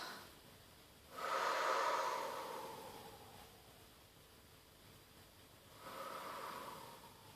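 Deep breaths during a gymnastics stretching exercise, two soft airy exhales, one long swell early and another near the end, faint and close with quiet between.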